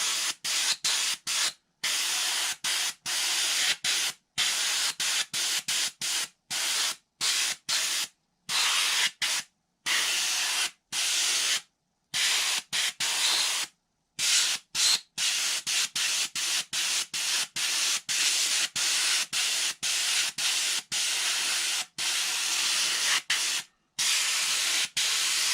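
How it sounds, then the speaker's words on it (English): A wet coat of PVA release agent hisses from a sprayer onto a mold for a carbon fiber bellcrank layup. The loud, close spray runs in long bursts broken by many brief gaps. "spray it relatively a wet coat."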